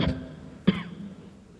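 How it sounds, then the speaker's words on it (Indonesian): Two distinct coughs from the president during a speech, the second louder and sharper, separated by a brief pause, close and clear with no talking. "terdengar mengalami batuk pada saat berpidato"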